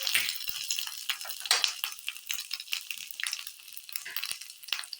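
Cumin seeds, black pepper and ginger fry in a spoonful of ghee, giving a steady close crackle and sizzle with scattered sharp pops and a faint stir of a spoon throughout.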